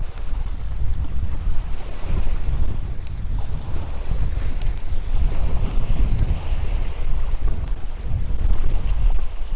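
Strong wind gusting hard across a fishing point by the water, roaring and buffeting the microphone steadily and loudly, with no talking.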